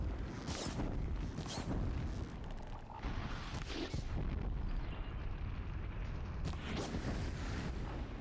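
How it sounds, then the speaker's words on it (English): Repeated heavy booms and rumbling blasts in the video game Horizon Zero Dawn, several loud explosion bursts rolling over a dense, continuous roar of debris and effects. "Big explosion incoming."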